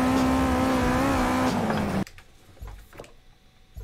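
Engine of a race car in a sim racing video game, loud and revving steadily for about two seconds, then cutting off abruptly to leave quiet, faint scattered noises.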